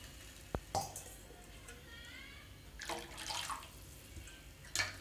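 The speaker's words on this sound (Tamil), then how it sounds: "இன்னும் 1 டம்ளர் அளவு தண்ணி விட்டுக்கோங்க." Water poured into a pot of horse gram rasam with tamarind and kollu; soft, intermittent splashing and trickling at close range, with a few sharp clinks of a vessel and quiet gaps between pours.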